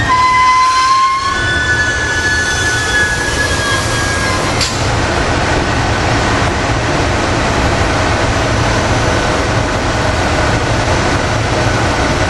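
A five-car commuter train bound for Thorndale passes close at rush hour, a long sustained roar of wheels on rails with a thin squeal and whine early on, loud and continuous throughout.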